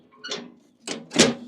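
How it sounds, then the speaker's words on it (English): A metal smoker door being fitted back into place, with three short clanking, scraping knocks close up, the last one loudest. "I'm going to put this door back on there."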